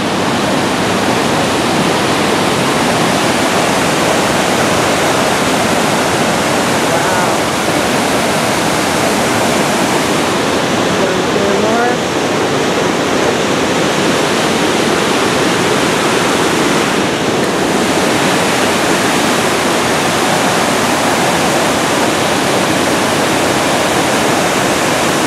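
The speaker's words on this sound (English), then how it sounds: "This is the Athabasca River, and here is the falls." Athabasca Falls on the Athabasca River roars as a loud, unbroken wall of rushing water, heard close up and constant for the whole stretch, with no voices over it.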